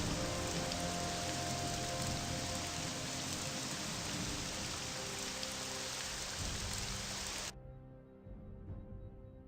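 Steady rain hisses loudly in Morrowind near a Telvanni town, then cuts off abruptly near the end, leaving a quiet, low ambient background.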